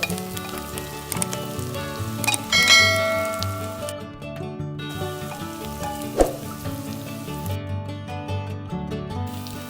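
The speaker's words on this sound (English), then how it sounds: "I've taken about 2 tablespoons of olive oil and I'm frying the onions" Onions fry in about two tablespoons of olive oil, a steady sizzle with occasional crackles and stirring clinks, heard under background music.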